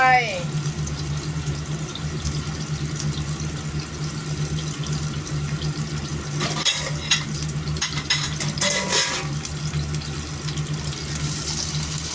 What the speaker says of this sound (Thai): ผัดเห็ดก่อนจ้า โอเค ใส่กระเทียมเข้าไป